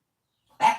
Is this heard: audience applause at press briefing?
no